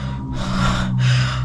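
Two heavy, gasping breaths from a man, a roommate out of breath, close and loud, in quick succession with no words.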